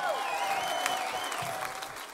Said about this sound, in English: A round of applause for Mr. Al Porter.